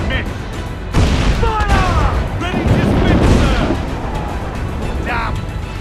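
Heavy cannon fire from sailing ships during a naval battle in Assassin's Creed IV Black Flag, repeated booms and crashes layered over constant sea and combat noise, with voices shouting between the blasts.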